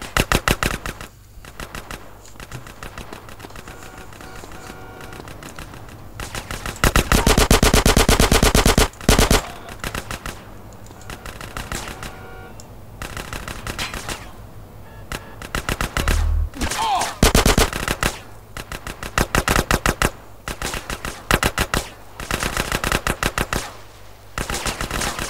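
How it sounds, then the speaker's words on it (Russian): Bursts of automatic and single-shot gunfire in GTA San Andreas rattle loudly in clustered volleys with short lulls between them, dense and close throughout. "Господи, куда они стреляют?"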